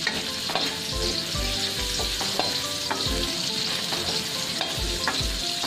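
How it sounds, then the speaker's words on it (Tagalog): Ginger and other aromatics sizzle steadily in reused cooking oil for a mussel (tahong) dish, with a spatula scraping and clacking against the pan at irregular intervals throughout, close and continuous with no voices. "Mag-iigisa ako ng pampasarap"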